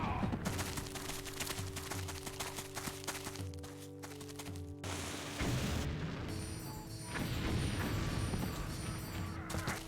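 Cannons fire in a battle in the trading strategy game Fugger II, a dense, continuous barrage of booms, creaks and clattering mechanisms that stays loud throughout with no pauses.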